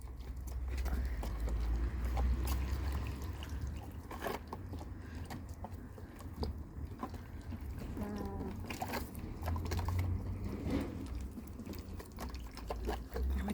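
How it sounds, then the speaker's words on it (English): Fermented chicken feed stirred in a container, with close wet squelching, clumping and scraping in irregular bursts over a low background rumble, and no talking. "give it a good stir, just to help break up the food a little bit"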